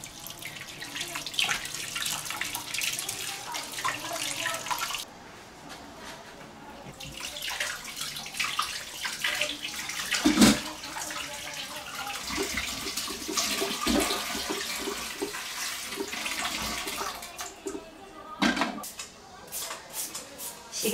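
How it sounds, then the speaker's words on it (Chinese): Tap water running over a bunch of coriander being rinsed at a kitchen sink, a continuous splashing flow with brief pauses and hand movements, while a person talks over it. "洗上一把香菜"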